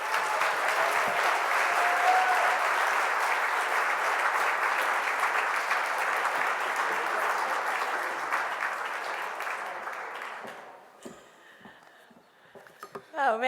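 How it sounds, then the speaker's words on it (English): A gala crowd applauds the evening's host with a long, full round of clapping that stays strong before thinning and fading near the end, where a voice starts to speak and scattered handling noises follow. "please give a huge round of applause to our host for the evening"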